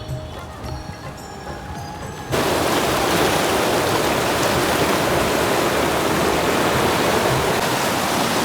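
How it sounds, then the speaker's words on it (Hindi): Fast-flowing river water at Janki Jhula in Rishikesh, a loud steady roar that abruptly swells into a dense broadband rush and stays constant throughout. "जल की धारा तो कितनी तेज़ है वो आप देख ही रहे हैं।"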